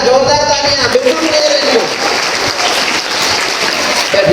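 Loud applause from the audience at an Astronight programme, a dense, steady wash of clapping lasting several seconds with voices heard over it.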